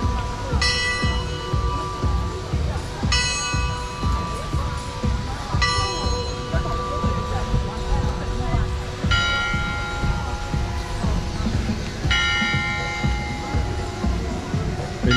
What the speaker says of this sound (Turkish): Belli saatlerde çalan çanlar.